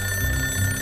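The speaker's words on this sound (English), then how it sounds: "The phone rings loudly enough to threaten a collapse of the enormous, precariously bound stacks of paper on her desk" An office telephone rings in a video game scene, a short, bright electronic trill heard alone for under a second.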